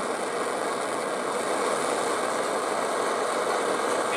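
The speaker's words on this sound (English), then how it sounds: "And there's that nice jet engine sound that you're looking for." A Primus OmniFuel camping stove burner roars steadily after preheating, a loud, even, jet-like rush that holds without a break and is heard alone.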